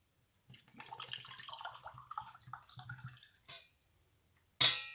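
Water, measured out by the glass, is poured into a bowl for bread dough as a soft, trickling splash lasting a few seconds, followed by a brief sharp clink.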